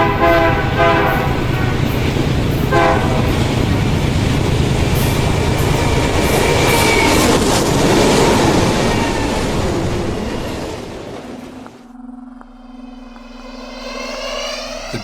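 A train rushes past very loud and close with a roaring rumble and rhythmic rail clatter, and a horn-like tone sounds near the end as the noise drops away.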